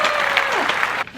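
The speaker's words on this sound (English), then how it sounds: "can we get a round of applause for the thyroid?" A brief burst of applause and cheering during a mother-and-daughter Sephora Play unboxing, bright and close, with a sliding whistle-like tone partway through before cutting off abruptly near the end.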